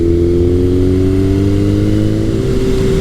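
A 1981 Kawasaki KZ1000 CSR motorcycle engine holds a steady, loud rev around 4,000 RPM while riding at highway speed, a continuous even drone with a slight upward pitch drift throughout.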